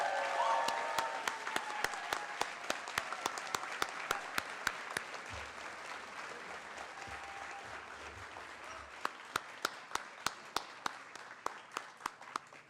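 Graduation ceremony audience applauds at a university honors college celebration, a dense, sustained wash of many hands clapping that carries steadily and slowly thins toward the end, with scattered louder individual claps standing out.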